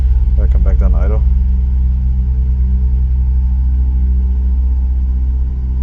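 A 2000 Ford Windstar with a 3.8L engine idles with a steady low, rumbling drone, running lean and misfiring, while someone talks briefly at the start.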